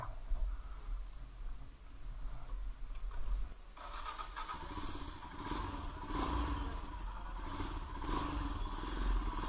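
A Royal Enfield Himalayan BS4 motorcycle rides along, its engine a steady low rumble that grows fuller and busier after a few seconds as it pulls away, with wind and road noise mixed in and no talking.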